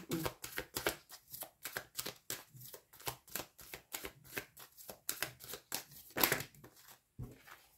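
Tarot cards are shuffled and flipped over in a quick series of close, crisp riffles and slaps, with short pauses between bursts and one louder snap near the end.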